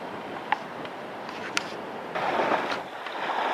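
Steady wind buffeting on an Alaskan beach, a constant broadband rush that swells louder partway through, with a couple of faint clicks.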